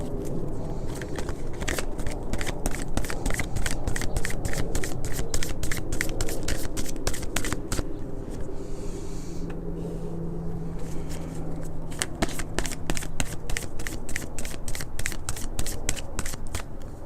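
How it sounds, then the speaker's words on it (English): Tarot cards being shuffled and pulled from the deck, a steady run of crisp, rapid riffling clicks at close range, pausing briefly midway before the flicking resumes, with no talking over it. "I'm going to pull a few more cards"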